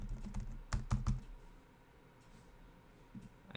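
Typing on a computer keyboard comes in quick clustered keystroke clicks near the start, then a quieter stretch with a few scattered taps toward the end, close and alone without talk.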